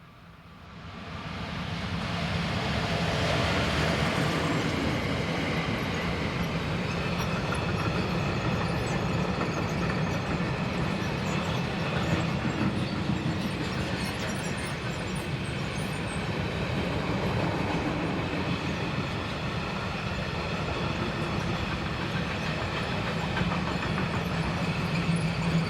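Freight train hauled by locomotive 422.90 rolling past on a line carrying an 0809 working from Gossau, a steady loud rumble with clattering wheels and wagon noise holding for over twenty seconds, no talk.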